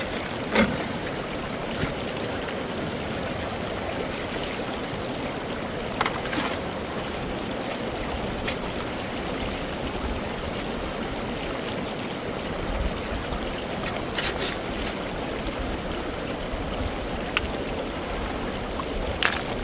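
Creek water from Mill Creek in the California Highlands rushes steadily through a gold prospecting sluice box, a constant near washing flow with occasional faint clicks and knocks.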